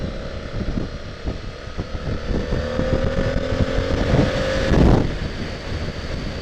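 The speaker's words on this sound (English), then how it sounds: "I'm getting blown all over this morning" Strong wind battering the microphone during a morning bike ride, a loud continuous roaring rumble with gusting swells, rising to a heavy blast near the end.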